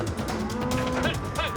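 Cattle being loaded into a trailer on an Alabama ranch, with lowing and moos mixed into steady livestock commotion and handler noise throughout.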